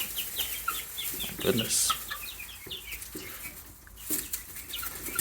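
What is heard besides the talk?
leghorn chicks in a brooder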